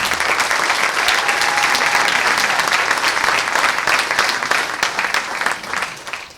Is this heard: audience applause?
yes